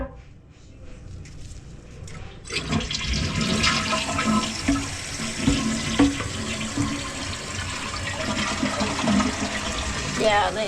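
A 1.6 gallon flush toilet flushes with a sudden rush of water that keeps churning steadily and fairly loud, with faint voices in the background.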